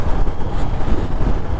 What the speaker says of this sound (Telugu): ఇప్పుడు గాలి తోలుతుంది.